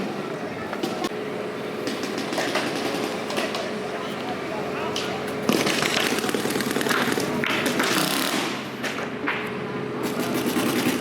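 Scattered popping shots and clicks from a paintball marker running low on CO2 ring out during an outdoor paintball battle, irregular and fairly close, mixed with voices talking.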